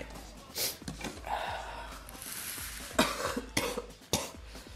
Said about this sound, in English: Ugh, horrible cough.